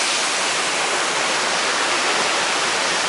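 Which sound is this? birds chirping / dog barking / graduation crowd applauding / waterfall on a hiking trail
waterfall on a hiking trail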